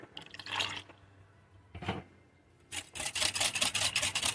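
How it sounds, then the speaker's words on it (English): Water splashes and trickles into a pan in uneven bursts, close by, ending in a steady bright pour. "We're going to add, let's see, another 1/3 of a can of water."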